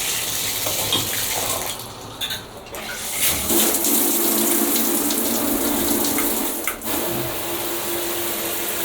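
A hotel shower head sprays water in a loud, steady hiss that changes character for a moment as the flow is adjusted, then carries on evenly near the listener.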